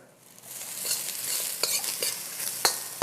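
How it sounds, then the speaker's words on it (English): Red peppers sizzle in a hot pan while being stirred, a continuous bright crackle with scattered scraping clicks of the utensil, close and without talk. "Just going to throw my red peppers right in there. Going to give it a quick stir."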